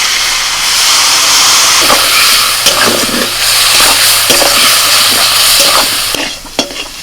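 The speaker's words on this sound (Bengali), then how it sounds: "জিরের গুঁড়ো হলুদ গুঁড়ো লাল লঙ্কার গুঁড়ো সামান্য একটু জল দিয়ে কষিয়ে নেব" Cumin, turmeric and chilli powder sautéing with potatoes and a little water in a pan, a loud close sizzle with repeated scraping stirs and a few sharp knocks near the end.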